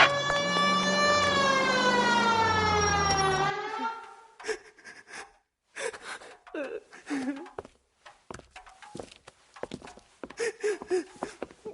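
A wailing ambulance siren in an old-time police radio drama, loud and rising and falling in long sweeps for about four seconds before cutting off, followed by people talking.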